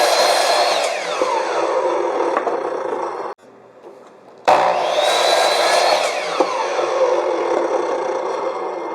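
A power saw rips through wood framing pieces for a homemade squaredrop camper, a loud continuous whine that stops briefly for about a second before cutting again, close and with no talk.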